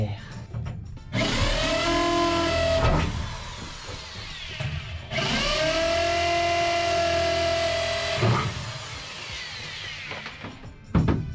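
A power drill bores holes in wooden battens during plywood work, two sustained whining runs of several seconds each with a brief pause between, close and loud, ending with a clack.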